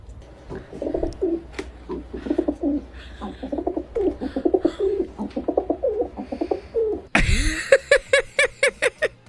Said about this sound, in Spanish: ¿No saben cómo, cuál es el sonido de una paloma?